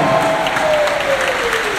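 A church audience at a sermon breaks into steady applause, a dense even roar of clapping with a faint sustained tone running underneath and no talk over it.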